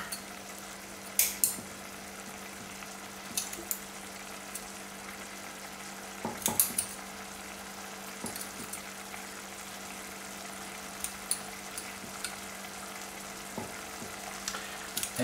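Sauce for stuffed chicken thighs reducing in a pan, a steady quiet sizzle and bubbling with occasional small pops and clinks, close and low in level.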